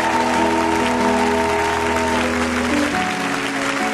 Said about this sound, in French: acclame encore, acclame encore